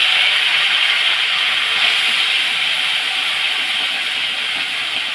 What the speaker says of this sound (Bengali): এখন দিচ্ছে পেঁয়াজ বাটা।